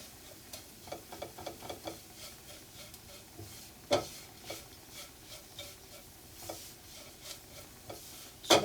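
Soft, irregular scraping and tapping of a spoon stirring onions and spices in a pan for tapioca biryani, with a faint sizzle underneath and a few sharper knocks, quiet and close.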